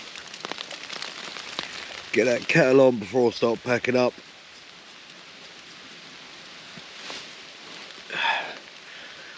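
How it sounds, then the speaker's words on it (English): Rain patters steadily on a zippered hammock during solo wild camping in the U.K., a soft continuous drumming of drops that continues under someone speaking and then carries on alone. "Oh, rain's in."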